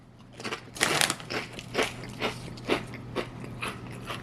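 Kettle sea salt and vinegar potato chips, thick and folded, crunched close to the mic in a run of sharp bites and crackly chews, with no talking.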